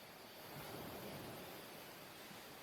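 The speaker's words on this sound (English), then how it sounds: "the waves on the beach, the YouTube music that we have, goes with the birds" Ocean waves wash onto a beach as quiet background ambience for a Pathfinder tabletop game session, a soft, continuous hiss of surf that swells slightly without any clear breaks.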